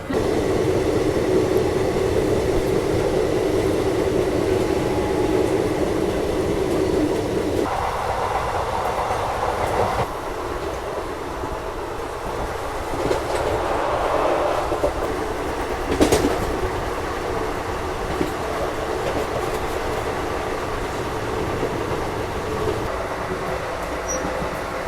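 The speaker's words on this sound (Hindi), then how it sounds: "पूरे 4 बजे अपने निर्धारित समय से प्लेटफॉर्म नंबर 3 मुरादाबाद जंक्शन के डिपार्ट हो रही है अपनी ट्रेन" A passenger train pulls out of platform 3 at Moradabad Junction in India, with a steady loud rumble of rolling carriages, rhythmic clickety-clack over rail joints and a brief wheel squeal, with no voices.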